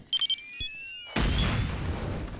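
Explosive blast in the video game Counter-Strike: Condition Zero: brief beeps and sweeping electronic tones, then a sudden loud broadband boom that rumbles and decays over the final second and more.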